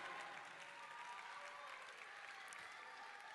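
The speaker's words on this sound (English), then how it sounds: "Give them a round of applause" Faint, steady applause from a crowd at a high school graduation ceremony, an even wash of distant clapping lasting the whole stretch.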